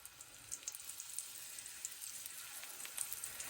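Soft, steady crackling sizzle of meatballs frying in a pan, with tiny pops scattered throughout, fairly quiet and close.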